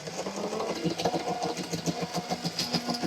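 A Best Choice Products toy Jeep with a repaired wheel drives in reverse, its small electric motor giving a close, buzzing whir with a rapid rhythmic flutter and no talk.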